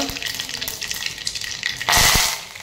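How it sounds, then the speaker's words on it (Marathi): Mustard seeds hit hot oil for kadhi and sizzle and crackle up close, then a sharp louder burst of spattering near the end, with no voices. "तेल गरम झालंय. चला मी मोहरी टाकते आता."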